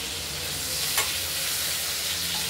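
Pointed gourd slices frying in hot oil, a constant close hiss and crackle with a single brief utensil tap near the middle, no talking.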